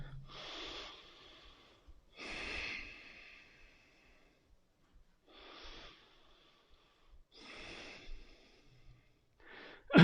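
Deep breathing during yoga practice comes as slow, audible inhales and exhales, about five breaths spaced a couple of seconds apart, close and fairly soft with no talk.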